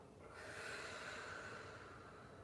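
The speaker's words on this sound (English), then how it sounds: "Cleansing breath out." A single long, forceful exhale through the nose during a yoga flow, a breathy close rushing hiss that holds steady for about two seconds, alone, no talking.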